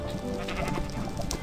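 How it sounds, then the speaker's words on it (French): Sheep in Minecraft bleating in a short, close, wavering cry over steady game background noise. "Donc les moutons, vous les trouvez là pour la laine après."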